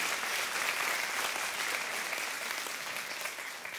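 A church congregation applauds steadily for several seconds, a dense wash of clapping that slowly eases off without stopping.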